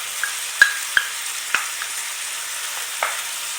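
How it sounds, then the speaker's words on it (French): Browned meat fries in a pan for moussaka as crushed tomato goes in, a steady low sizzle broken by a few sharp utensil clicks, close and moderately loud with no voices. "Une fois ma viande bien dorée, je rajoute la tomate concassée"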